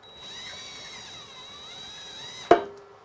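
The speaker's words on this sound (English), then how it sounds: "I'm using a drill instead of an impact" An electric drill whirs steadily at close range for a couple of seconds, driving a screw while installing a lifter on a Dewalt DW788 scroll saw, then stops with a sharp clack as the screw seats.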